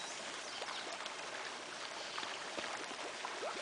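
Fish thrash and splash at the surface of a fish farm pond, a dense continuous wash of water with many small, scattered splash bursts, fairly close and steady.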